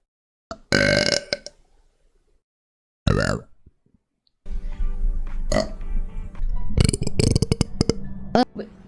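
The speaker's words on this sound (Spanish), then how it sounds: "Voy a eructar" A woman lets out several loud, drawn-out burps close to the microphone, separated by short silences and followed by a rapid cluster of further burping sounds.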